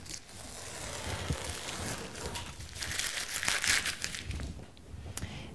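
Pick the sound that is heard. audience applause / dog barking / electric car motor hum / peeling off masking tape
peeling off masking tape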